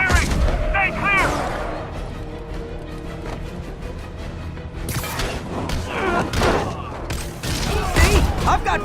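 Gunfire and heavy impacts in the Spider-Man video game, irregular bursts and thuds through a busy fight mix with shouted voices now and then.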